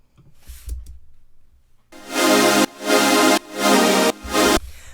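Layered Alchemy synth chords over a big bass line and big drums, with heavy sidechain pumping, the full mix pulsing in four loud swells that cut off sharply after a short quiet lead-in.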